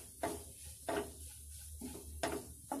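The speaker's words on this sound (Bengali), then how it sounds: "এখন আমি এই মিশ্রণটাকে খুব ভালোভাবে মিশিয়ে দিচ্ছি।" Egg fried rice mixture is stirred in a pan, three or four distinct scraping clanks of a spoon against the metal spaced about a second apart, quiet and close with no talking.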